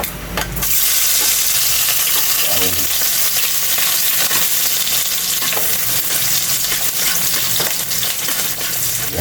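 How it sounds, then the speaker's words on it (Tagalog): Garlic sautés in hot cooking oil, a loud, continuous crackling sizzle close by, with an opening burst as it hits the pan and scattered scraping stirs throughout. "Mag-umpisa na tayo magigisa at nagpapainit na tayong mantika. Unahin natin kaili yung bawang."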